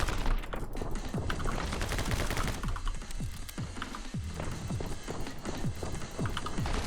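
Rapid bursts of gunfire in the video game Balls Deep, dense crackling volleys overlapping with game noise throughout, loud and continuous with no pause.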